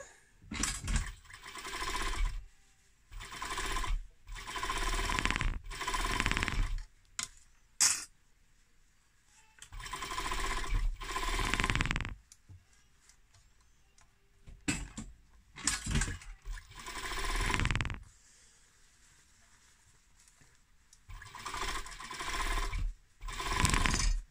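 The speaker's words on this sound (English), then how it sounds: "So I'm going to just sew this bit up now." A sewing machine stitches a lined fabric seam in repeated bursts of rapid mechanical whirring, several runs of a few seconds each separated by quiet pauses, close and clear.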